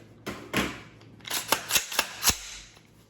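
A Geissele flat-face trigger on a Super Duty 11.5-inch MK16 rifle is dry-fired, giving a series of sharp, close mechanical clicks and snaps in an uneven rhythm of about six crisp hits.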